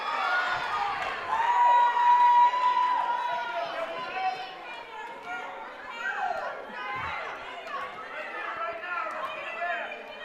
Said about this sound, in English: that's a round of applause from everybody in here for that point